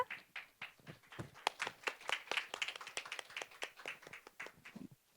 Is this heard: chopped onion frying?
no